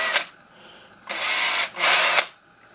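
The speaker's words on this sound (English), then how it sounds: "Use a little bit more RPM when you drill these ones so that you don't split the part along the layers." Power drill boring 2.8 mm holes through a 3D-printed plastic part, two sustained high-pitched whirring bursts with a brief spin-up at the start, close and fairly loud with quiet gaps between.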